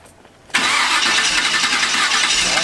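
Near silence, then an engine cranks and catches abruptly, settling into a loud, steady running rumble with a whining hiss.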